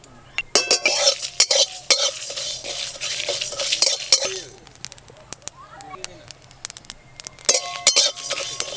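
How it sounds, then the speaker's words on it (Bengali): Whole spices with dried red chillies (cumin, coriander, fennel) roasting in a pan while a metal spoon stirs and scrapes, sharp clinks in bursts with gaps, close by, a voice speaking at times. "সব গোটা মশলা ভালো করে ভাজা হয়ে গেছে"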